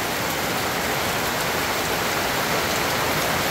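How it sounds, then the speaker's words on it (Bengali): Heavy rain pouring at Digha market, a dense, even roar of downpour hitting surfaces, loud and unbroken throughout with no voices. "এই বছরের সেরা বৃষ্টি দেখতে পাচ্ছেন দর্শক।"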